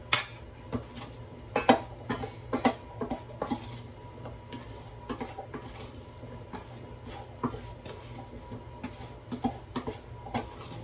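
Spoon scraping and clinking in a bowl while cinnamon is stirred into an apple crumble filling, a run of irregular soft knocks and scrapes up close, with no talking.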